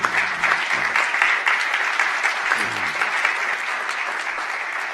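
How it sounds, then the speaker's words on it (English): Loud, sustained applause from a crowd, steady dense clapping that holds for several seconds without a break. "Hey, Christian, y'all give him a round of applause"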